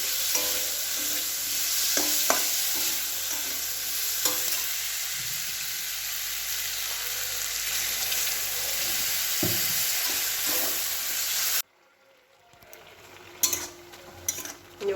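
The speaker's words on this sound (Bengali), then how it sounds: "উচ্ছের ঝালটা বসিয়েছি, শুকনো শুকনো হলে নামিয়ে দেবো।" Bitter gourd curry sizzles steadily in a hot pan while a spoon stirs and scrapes it in scattered knocks; the frying stops abruptly near the end, leaving a few faint clinks.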